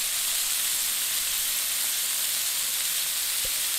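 Vegetables sizzle in hot oil in a pan, a steady, dense hiss that runs unbroken and fairly close, with no talking.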